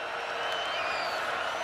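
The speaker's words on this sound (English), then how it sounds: "you can hear the crowd give a little extra applause" Football stadium crowd at a Michigan game applauding as a player's name is announced, a broad distant roar of clapping and cheering that holds steady.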